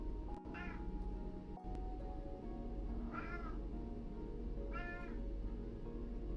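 A house cat meows three times indoors, each call short and moderately faint, spaced a second or two apart over a low steady room hum.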